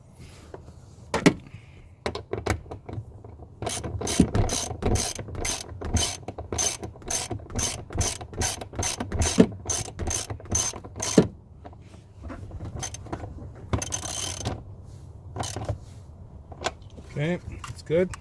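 A seat belt anchor bolt is ratcheted down in a Pontiac Grand Prix during rear seat work, giving a long run of sharp, evenly spaced clicks close to the microphone with brief pauses.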